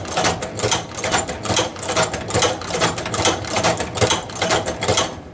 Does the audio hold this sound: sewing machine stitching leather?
yes